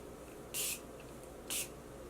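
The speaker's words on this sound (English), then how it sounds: "Last bit is setting spray, so I'm going to use my Morphe setting spray." Two short bursts of Morphe makeup setting spray about a second apart, crisp and close, with quiet room tone between them.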